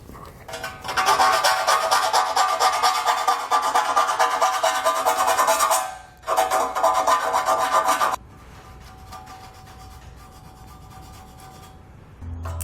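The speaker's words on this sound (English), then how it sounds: "we're going to go ahead and clean these cuts up using a metal file here" A metal file smooths the freshly cut metal edges of a Roadmaster Direct-Connect base plate with fast, loud, continuous rasping strokes. It stops briefly, resumes, then gives way to a quieter background near the end.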